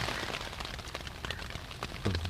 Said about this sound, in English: Also still raining. Sometimes it rains heavy.